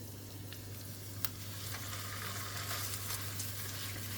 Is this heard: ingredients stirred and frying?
yes